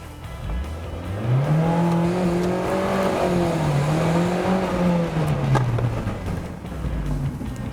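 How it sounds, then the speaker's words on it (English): A 2008 Mitsubishi Lancer Evolution GSR engine revs steadily high, its pitch wavering up and down as the clutch slips, loud and close for several seconds. "you got to do that by revving the engine and slipping the clutch a lot"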